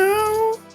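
A human voice imitates a cat's meow in one short, clear, tonal call that slides slightly upward, then trails off into quiet.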